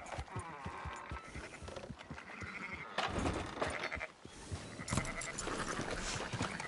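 Sheep in the video game Red Dead Redemption 2 bleat over and over, the calls loud and near and overlapping, with hoof clops and other game sounds around them.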